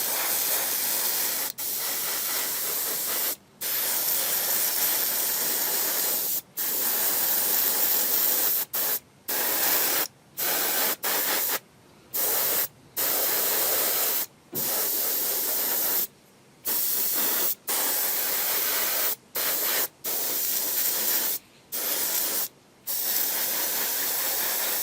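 Airbrush spraying paint onto a 1/12 scale Boba Fett model, a close, steady hiss in repeated bursts of a second or two, broken by brief silent gaps.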